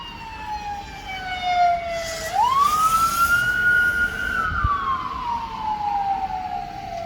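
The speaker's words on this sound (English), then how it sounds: "Every time I'm trying to film something, there's always sirens." An emergency vehicle siren wails as it passes outside a house, a single loud sweeping tone that rises, holds and slowly falls away, with a faint rumble of traffic beneath.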